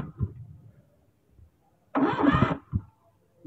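A car engine being cranked with the starter during a workshop compression check, a short faint whir at first, then a brief louder burst of cranking that stops abruptly, followed by a quiet thump.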